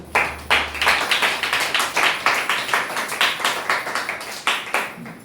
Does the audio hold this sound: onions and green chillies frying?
no